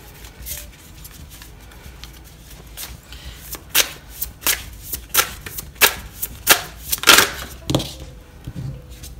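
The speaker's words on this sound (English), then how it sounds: "With this beautiful deck, let's get more cards out." A deck of tarot cards gets shuffled and cards are pulled from it, giving a run of sharp, close riffling bursts and slaps that grow louder and denser toward the end, with no one speaking.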